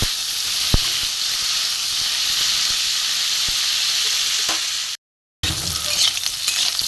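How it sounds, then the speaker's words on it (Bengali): Loud, steady sizzling of cauliflower frying in hot oil, continuous and close, with one brief moment of silence near the end. "ফুলকপিগুলো একটু ভেজে নেবো হালকা করে ফুলকপিটা একটু ভেজে নেবো"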